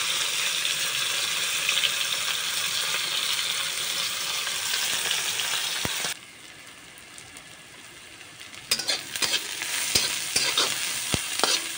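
Onions frying in a pan give a steady, dense sizzle up close. It cuts out abruptly partway through, then comes back with sharp spoon scrapes and clicks of stirring.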